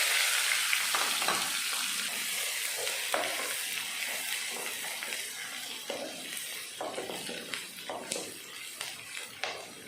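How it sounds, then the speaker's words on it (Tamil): Finely chopped onions sauté in a hot pan with green and dried red chillies, a steady close sizzle broken by occasional scraping stirs of a spoon. "வெங்காயத்தை 1 நிமிஷத்துக்கு நல்லா வதக்கிடலாம்."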